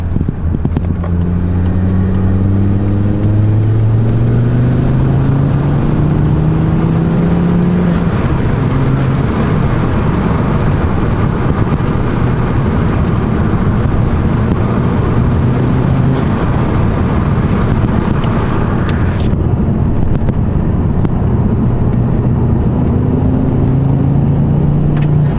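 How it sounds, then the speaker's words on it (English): Steady wind and road roar inside a Ford Mondeo 2.5T while driving, with the engine note rising and falling through gear changes beneath a constant, loud rushing hiss. "I don't know if all you'll hear is wind noise here"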